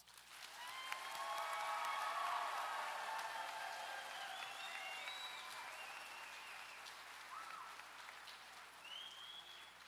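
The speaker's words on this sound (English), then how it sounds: "please join me in giving the graduating class of 2024 another big round of applause" Audience at a North Wilkes High School graduation gives the class of 2024 a long round of applause, swelling and then holding steady, heard faintly from a distance with scattered whoops and whistles.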